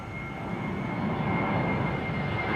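SAS jet airliner taking off from Schiphol's Kaagbaan runway for Copenhagen, a deep continuous engine rumble with a thin tonal whine, steady and fairly loud, no talking.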